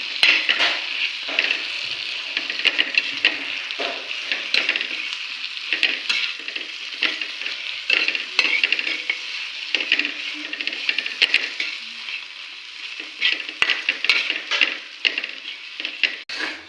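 Ground peanut powder being stirred into potato chutney in a frying pan: a continuous close sizzle with repeated scraping strokes and light metallic clinks of the spoon, no voices.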